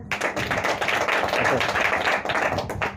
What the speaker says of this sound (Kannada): ಚಪ್ಪಾಳೆ ಯಾಕೆ ಹೊಡೆದ್ರಿ?